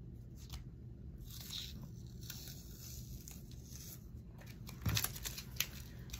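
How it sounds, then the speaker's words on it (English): Small scissors cut paper for a unicorn junk journal with soft, intermittent snips and scrapes close by, quiet, with no talking. "Let me use one of the smaller scissors here."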